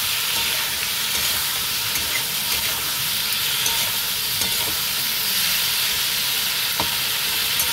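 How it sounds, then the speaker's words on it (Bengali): Ivy gourd and potatoes with turmeric and salt are stirred in a pan, a steady loud sizzle and frying hiss running continuously with faint scraping of the stirring, close up and without talk. "এই কুঁদরি আর আলুর সঙ্গে ভালোভাবে আমি মিলিয়ে দেবো।"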